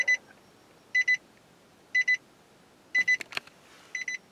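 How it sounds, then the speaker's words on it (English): A car's keyless ignition warning chimes in evenly spaced double beeps about once a second, clear and close over a quiet background, with a brief shuffle of handling noise near the end. "I heard a beeping and I thought it was my camera, but it was my car telling me that I have keyless ignition"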